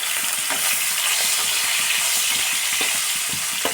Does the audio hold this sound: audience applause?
no